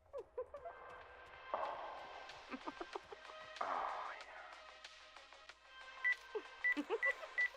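Phone keypad tones from Dead Take, a series of short electronic beeps that become a quick cluster of evenly spaced presses near the end, faint against quiet game ambience.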